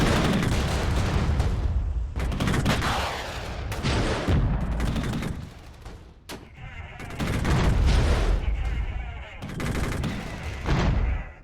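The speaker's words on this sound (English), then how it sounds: "Taking heavy direct fire." Heavy gunfire from a military battle in MicroProse Regiments, with dense bursts and volleys that come in waves, loud and close, and brief lulls between them.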